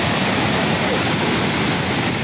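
Roaring Tirathgarh waterfall at Jagdalpur, a dense unbroken wash of falling water that fills the whole clip, loud and steady, with no break.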